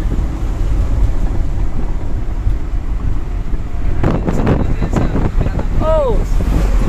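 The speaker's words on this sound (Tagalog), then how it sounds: "Bilis ng lakas ng hangin sa labas." Strong wind roars outside during a road trip, a constant rushing buffet with heavier gusts toward the end, and a brief voice near the close.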